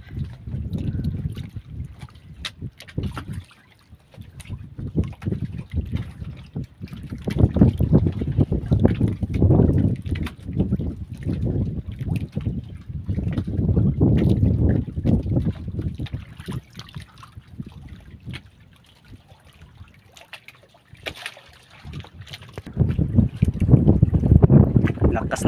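Strong amihan monsoon wind blowing over the sea during a fishing trip, a loud rushing low roar buffeting the microphone in surging gusts, with water sloshing around a small boat and voices talking at times.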